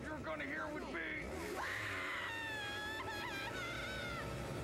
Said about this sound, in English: And that is a hilarious scream.